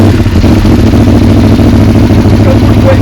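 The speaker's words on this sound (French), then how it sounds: "Donc là vous allez entendre un bruit qui est pas nécessairement à froid parce que la moto a déjà un peu tourné" An Aprilia Tuono motorcycle fitted with an Akrapovic exhaust, already slightly warm, runs loud and close with a deep, continuous rumbling idle that throbs steadily throughout.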